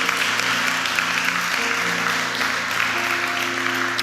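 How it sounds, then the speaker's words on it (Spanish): Church congregation applauding at a Spanish-language worship service, a dense, steady wash of clapping filling the whole stretch at even loudness, with sustained keyboard or organ tones held underneath. "dale un fuerte aplauso a nuestro Señor Jesucristo"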